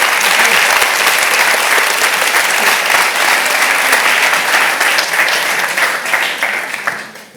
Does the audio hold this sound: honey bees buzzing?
no